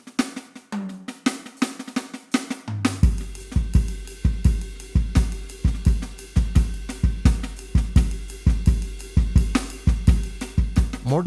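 Roland VAD307 electronic drum kit played in a steady groove, with punchy kick, snare and cymbal hits in a regular rhythm after a brief opening fill, close and loud with no talking.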